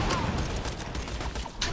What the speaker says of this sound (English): Mind the fireworks!